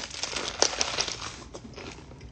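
Crisp, crackly crunching of raw lettuce leaves being bitten and chewed close up, a dense run of small crinkling snaps over a couple of seconds, with no talk.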